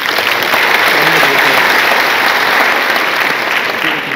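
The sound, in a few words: audience applause for the armed forces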